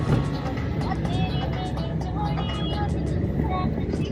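A car drives along a road in India toward a service centre in Shamli, giving a steady engine and tyre rumble heard from inside the vehicle throughout.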